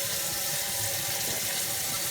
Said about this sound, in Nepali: अब आफूलाई चाहिने जति पानी हालिदिने